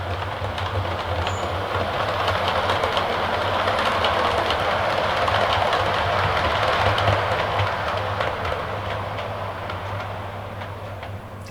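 A Bachmann London Transport 4TC four-coach OO gauge model train runs steadily along the layout track toward a buffer stop, a continuous close rolling rumble with light rhythmic clicking, no voices.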